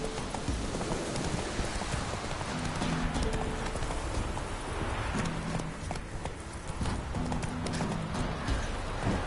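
A horse gallops in The Witcher 3 on PS4, steady rapid hoofbeats with a rushing, rain-like wash and game music throughout, loud and continuous with no talking.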